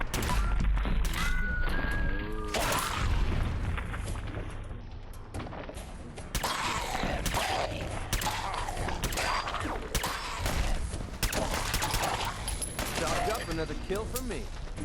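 Deliverer pistol shots in Fallout 4, sharp repeated cracks scattered among clanks, creaks and mechanical game noises, with a voice talking over parts of it.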